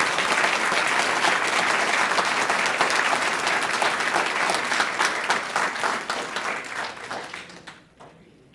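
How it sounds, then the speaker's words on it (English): An audience at a city council regular meeting breaks into loud, steady applause that holds for several seconds, then thins and fades out toward the end. "let's give them a round of applause"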